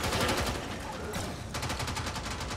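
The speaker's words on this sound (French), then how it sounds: "ça tire de partout" Rapid gunfire in the shooter game Warframe, dense bursts of automatic shots crackling almost without pause, with a brief lull before the volley resumes, loud and close.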